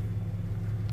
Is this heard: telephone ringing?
no